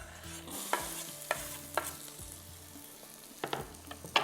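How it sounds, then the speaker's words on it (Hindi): Garlic sizzles in hot oil in a pan for a Chinese-style dry chili chicken, a soft steady frying hiss broken by several sharp clinks and scrapes of a utensil stirring, fairly quiet and with no voices. "चले जी, अब लहसुन जा रहा है यहाँ पर ऑयल के अंदर।"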